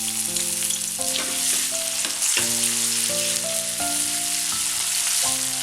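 Cumin with crushed ginger and garlic frying in a pan while being stirred, making a steady close sizzle that runs the whole time beneath louder instrumental music.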